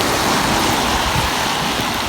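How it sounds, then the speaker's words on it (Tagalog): Dense, steady roar of heavy rain pouring down, a continuous wash of noise with no pauses. "Pero malakas na ulan."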